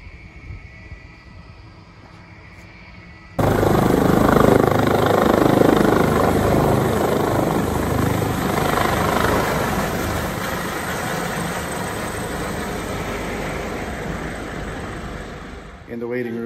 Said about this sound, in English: we are going up in the helicopter into this